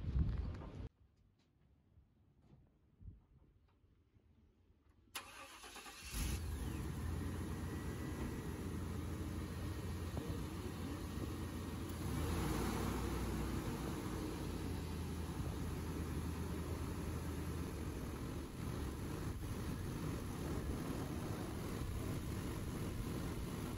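GMC truck with a 5.7 engine idling during a Seafoam treatment: after a few seconds of faint handling noise, the engine starts and settles into a steady, dense rumble that carries on alone to the end.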